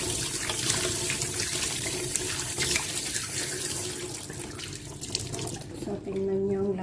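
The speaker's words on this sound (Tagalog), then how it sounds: "ang gawin natin guys is i-wash natin ng tubig." Tap water runs steadily into a sink while hands are washed under it, a continuous close splashing rush that holds for several seconds and thins near the end, with a voice speaking briefly.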